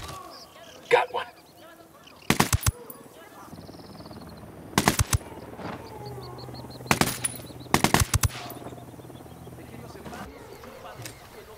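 Bursts of R5 RGP assault rifle fire from the tactical shooter Ghost Recon Wildlands, several short rapid volleys spaced a couple of seconds apart over steady ambient game noise, loud and close.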